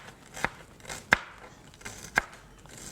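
Three separate knife chops on a board as onions are cut, crisp and close, spaced unevenly over a quiet background.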